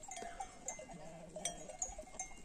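A flock of sheep out on a herding run, with scattered bleats close by, faint bell clinks, and a soft outdoor background between the calls. No one speaks.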